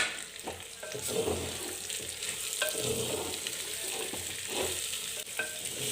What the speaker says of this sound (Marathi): त्याच्यानंतर पत्ताकोबी आणि ही कांद्याची पातसुद्धा मी त्याच्यामध्ये ॲड करते तर मी हे एकदा व्यवस्थित परतून घेते